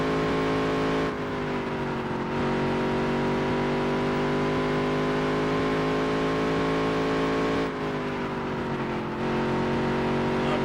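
A full-time modified race car in a dirt-to-Daytona career game drones through a qualifying lap, the engine note steady and loud with two brief lifts where the pitch drops and climbs again.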